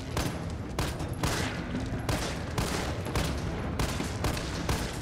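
In the Resident Evil 3 Remake, an assault rifle fires in rapid bursts at zombies, and the loud, sharp volleys repeat at regular intervals with no one speaking.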